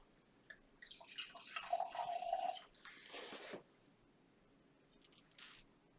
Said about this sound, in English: I will pour the wine